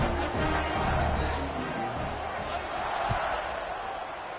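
A stadium crowd at a football game murmurs in a steady, broad buzz, with a few thumps in it, and sits beneath a commentator's play-by-play.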